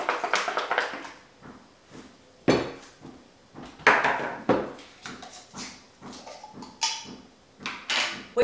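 Quinoa Greek salad being tossed in a bowl, with irregular clinks and scrapes of a utensil against the bowl coming in short bursts, close and without talk.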